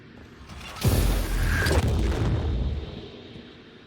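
A gun turret blows up in the sci-fi game Prey, a loud, rumbling explosion that bursts in suddenly and roars for about two seconds before fading into a lingering mechanical hum.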